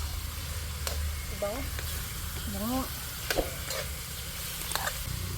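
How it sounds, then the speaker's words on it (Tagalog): Chicken sautéing in a pot over an outdoor wood fire for tinola, a steady sizzling fry with occasional stirring clatter, while people talk nearby. "Sinasangkot siya pa po yung manok."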